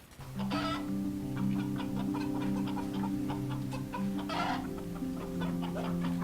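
An Ayam Cemani chicken clucks repeatedly in short, steady bursts close by, with a soft background murmur and no talking.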